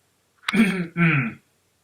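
A single voiced throat-clearing cough, two short rough bursts in quick succession, close and fairly loud, then silence.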